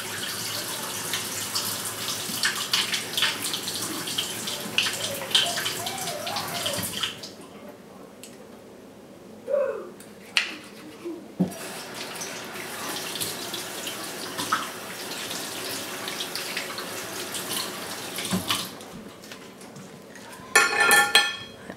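Tap water runs and splashes in a sink while scissors are washed with soap, a steady close rush with brief pauses and light metallic clinks.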